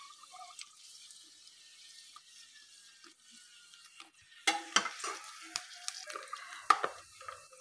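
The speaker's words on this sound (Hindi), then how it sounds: "हमारा पूरी गरम हो रहा है, उबल रहा है" Puris for pani puri fry in hot oil, starting as a faint hiss and then breaking into louder crackling sizzles and pops, close by with no talking.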